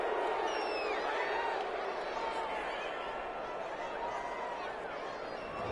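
Stadium crowd in a PS4 football video game reacting with sustained booing to a penalty call, a steady dense roar filling the whole stretch at even loudness.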